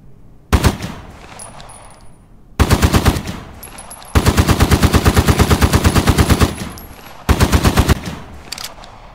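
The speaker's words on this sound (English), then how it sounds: "Now I would say both guns sound amazing and it's a big upgrade, but I do find the STG-44 a little off." STG-44 assault rifle gunfire from the video game Polyfield: four loud bursts of rapid automatic fire, the longest a sustained stream of evenly spaced shots, with short gaps between bursts and no talk.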